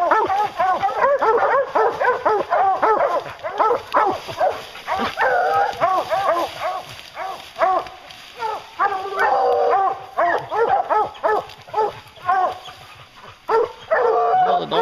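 Hunting hounds on a bear hunt bark and yip repeatedly in a busy, overlapping chorus close by, with occasional whimpers and a voice speaking intermittently.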